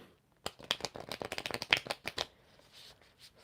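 A deck of question cards being shuffled by hand at a table, a quick close riffle of flapping, ticking card edges lasting about two seconds before fading into quiet room tone.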